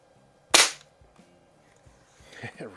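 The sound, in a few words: air rifle shots, Daisy 753 and Crosman 101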